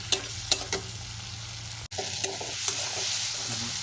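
Masala sautés in a pan of tomatoes and potatoes for a Bengali rohu fish curry, a steady sizzle broken by a few sharp spoon scrapes and one abrupt cut midway, with no talk.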